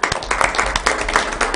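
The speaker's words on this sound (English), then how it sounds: "a little round of applause" Short clapping from a small group at a county commission meeting, a light, uneven patter of hands lasting under two seconds with a low hum underneath.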